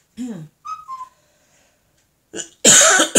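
A short two-note whistle notification chirps from a phone, a quick rising then falling tone, followed by a cough and a throat-clearing noise nearby.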